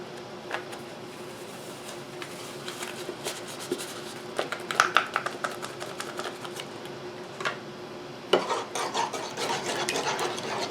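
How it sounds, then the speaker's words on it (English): A spoon stirs powdered pectin into a blackberry jelly mixture in a pot. Soft scraping and rubbing strokes come close and at moderate level, with a few louder clinks and scrapes near the end. "I'm going to go ahead and add that to this mixture now and stir it in until it dissolves"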